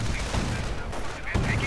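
Sniper rifle fire in a World War II strategy video game sounds as a dense, steady barrage of overlapping gunfire, with a few sharper cracks standing out over the continuous battle din.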